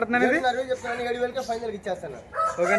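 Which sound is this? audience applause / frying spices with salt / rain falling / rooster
rooster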